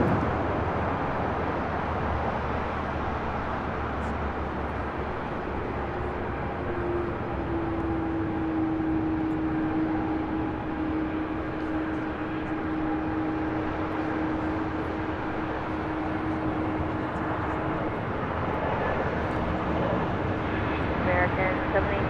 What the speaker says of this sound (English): The next Air Tahiti Dreamliner coming in from Papete. At the touchdown here on the south side on 25 left.